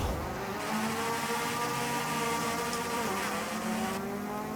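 Roaring drag race car engine in a video game, a loud continuous droning rev with gear-change shifts in pitch, held steady throughout without any talk.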